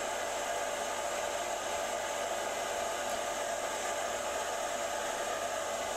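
A Shaper Origin handheld CNC router with a quarter inch bit cutting circles, giving a steady, loud whine and hiss with no change throughout and no voices.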